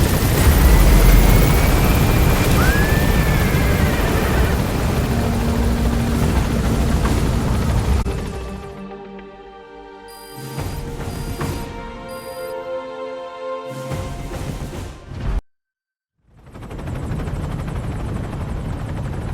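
In the Metal Gear Solid 2 video game, a helicopter climbs with loud rotor thrum and engine roar that later thins and cuts in and out amid game sound effects.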